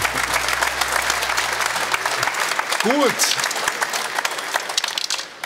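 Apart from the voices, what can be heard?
studio audience applause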